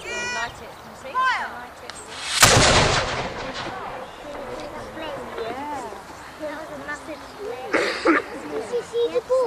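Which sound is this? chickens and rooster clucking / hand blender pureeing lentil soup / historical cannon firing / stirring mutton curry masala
historical cannon firing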